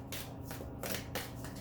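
Tarot cards are shuffled by hand in a few quick, soft riffling bursts, close by but faint, with short quiet gaps between them.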